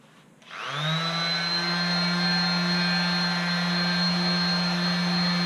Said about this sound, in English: this time I put it underneath a Scotch-Brite pad and used the mouse sander again.